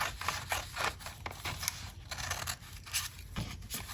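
Scissors snip through a paper envelope for a junk journal, a steady run of close, crisp cutting strokes in a regular rhythm with no talking.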